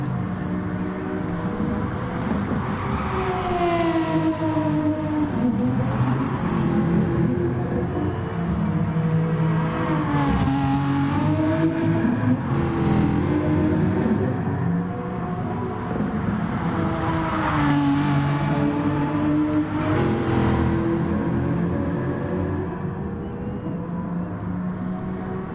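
Race cars lap the Big Willow circuit in a PS4 racing game, several engines droning and whining together at steady volume, with rising and falling pitch as they accelerate and pass, continuous throughout with no talking.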